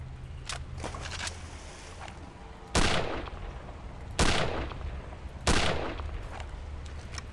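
Gunfire in the video game Return to Castle Wolfenstein: several sharp, loud shots spaced a second or so apart, each followed by a brief decaying tail, over a low game ambience.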